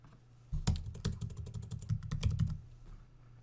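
Keys tapped on a computer keyboard in a quick burst of about a dozen close, crisp clicks lasting two seconds, as a search is typed on a Windows 10 PC, with quiet room tone before and after.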